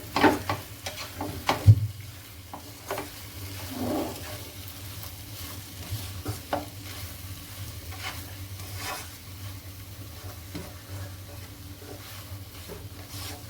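Okra masala with green chillies being stirred in a frying pan, a soft steady sizzle under repeated scraping and clinking spoon strokes against the pan, close and without talk.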